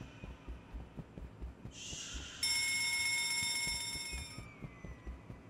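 A fire alarm in the video game Escape the Backrooms rings loud and steady, a bright electronic tone that kicks in partway through, holds for about two seconds, then slowly fades over a low rumbling ambience.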